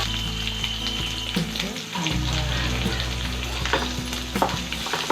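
Chopped onion sizzles and fries in hot oil in a pan for Chettinad egg paniyaram gravy, a steady close crackle with occasional stirring scrapes, no talking.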